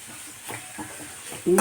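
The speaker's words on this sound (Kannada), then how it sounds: "ಜಾಸ್ತಿ ಏನು ಈರುಳ್ಳಿ ಫ್ರೈ ಆಗೋದು ಬೇಡ ಸ್ವಲ್ಪ ಫ್ರೈ ಆದರೂ ಸಾಕು ಟೇಸ್ಟ್ ಆಗುತ್ತೆ" Onions fry briefly in a pan for buttermilk sambar, a soft sizzling hiss with a few faint stirs before a sudden louder burst of sizzle at the end.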